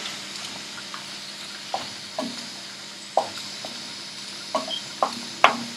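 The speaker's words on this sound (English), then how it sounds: "we just keep stirring it until it accumulates together with the onion for another 2 to 3 minutes" Onion and egg curry masala stirred in a pan over a low flame, soft scraping under a faint sizzle with intermittent light clinks of the spoon against the pan.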